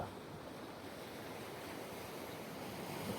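Surf on a remote South Australian beach near the Nullarbor makes a constant, faint broadband wash mixed with wind rushing over the microphone, with no distinct breakers or voices.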